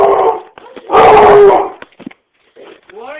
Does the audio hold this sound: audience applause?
no